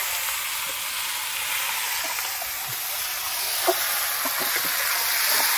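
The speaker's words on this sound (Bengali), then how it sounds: "যে তেল ছিল কড়াইতে আমি সেই তেলেই মাংস দিয়ে দিচ্ছি" Marinated meat sizzles in hot oil in a wok during a Christmas family picnic cookout, giving a steady, soft frying hiss with a few faint pops and clinks throughout.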